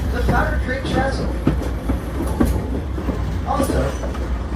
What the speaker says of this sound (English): We're now going to be crossing the Powder Creek Trestle.